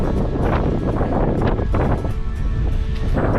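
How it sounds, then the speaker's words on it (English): Wind buffeting a microphone at the seaside on the Humber estuary as the tide comes in, a steady loud rumble with gusts and faint surf behind it, no talking. "It is a little windy."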